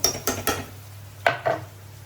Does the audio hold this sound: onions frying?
yes